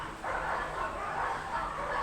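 A dog barks repeatedly in continuous, moderately loud bursts, with the barking filling most of the short stretch after a brief quieter start.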